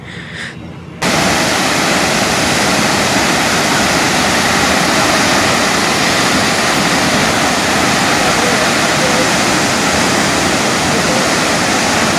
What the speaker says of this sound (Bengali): চলুন এবার আপনাদের একটু জলের আওয়াজ শোনাই।